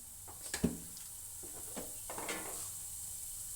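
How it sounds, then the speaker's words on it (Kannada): Chana dal and urad dal dropped into hot oil give a soft, steady sizzle with a few brief stirring clinks, faint and close with no talking. "ಎಣ್ಣೆ ಕಾದಿದೆ. ಇವಾಗ ಕಡಲೆಬೇಳೆ, ಉದ್ದಿನಬೇಳೆ,"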